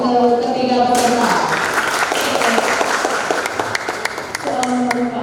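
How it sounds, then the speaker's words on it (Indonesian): An audience at a school quiz final in a vocational high school hall applauds three contestants, with a few seconds of brisk clapping. Tonal music or a sustained tone plays at the start and end, and a voice speaks briefly over it. "Tepuk tangan dulu untuk ketiga peserta"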